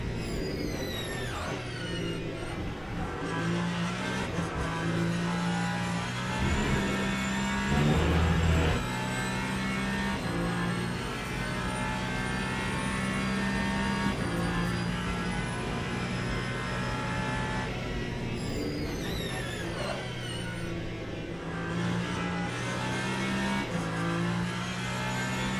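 Race car engines at Monza in the Le Mans Ultimate racing sim, a continuous engine drone with rising and falling pitch as cars accelerate and shift.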